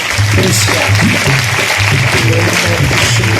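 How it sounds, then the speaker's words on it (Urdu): A congregation claps loudly in a church, a dense, steady wash of applause mixed with voices and cheering throughout. "زوردار تالیوں کے ساتھ"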